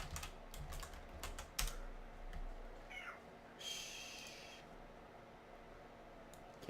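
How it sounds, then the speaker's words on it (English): An excited indoor cat lets out a short, faint meow amid the quick clatter of computer keyboard typing in a quiet room. "Cat's getting a little excited."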